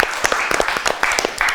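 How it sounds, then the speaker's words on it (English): A quiz show audience claps in short, uneven bursts of individual hand claps, near and fairly loud, with a few voices mixed in. "Give a clap to them."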